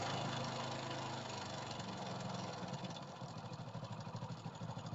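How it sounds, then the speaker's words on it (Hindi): A Hero Splendor motorcycle engine idles at low RPM, a steady close mechanical drone that settles into a faint regular pulsing toward the end, with no voices over it. "आपको आरपीएम को वहां पे सेट करना है जहां पे आपकी बाइक बंद भी ना हो"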